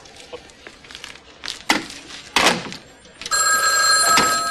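A payphone bell rings down a hallway, its sharp repeated electronic ring starting after a few scattered knocks and rustles and then holding steadily and loudly to the end.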